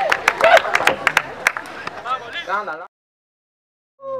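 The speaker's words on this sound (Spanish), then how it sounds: "Aplauso para Troles de acá" Scattered clapping and crowd noise from the audience at a freestyle rap competition, mixed with someone speaking over it, fading out before a short silence.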